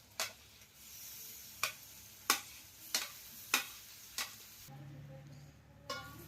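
Tomatoes frying in a pan for chicken curry, with a soft steady sizzle broken by several distinct clinks and scrapes of a stirring spoon at irregular intervals.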